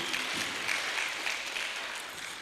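An audience at a teachers' award ceremony claps for an honoree, with continuous, fairly loud applause that fades a little toward the end and no voices.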